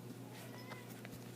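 A house cat gives a brief, faint meow or two in a quiet room with a low steady hum beneath it.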